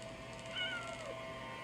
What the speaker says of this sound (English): My cat's trying to hit me.